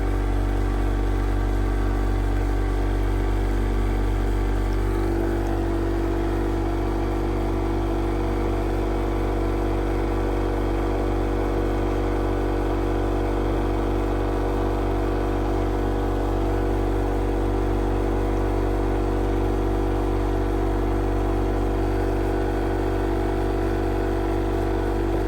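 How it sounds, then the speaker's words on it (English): Flat lap machine roughing a piece of mahogany obsidian on a 180 grit diamond disc, giving a steady, loud, continuous motor whir and grinding drone that holds unbroken throughout, with no talking. "we'll be coming over to the flat lap at 180 grit on the diamond disc and roughing in our shapes for our cabs"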